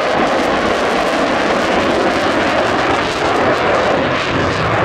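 A jet aircraft at full throttle during the AXALP 2023 airshow, a loud, continuous broadband roar that holds steady and close throughout, with no voices over it.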